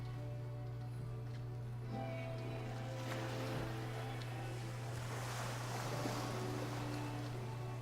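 Faint water sounds in a video game: a soft, steady wash of flowing or lapping water over a low constant hum, with a quiet swell in the middle.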